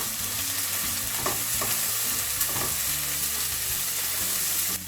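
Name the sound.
stirring chili paste frying in pan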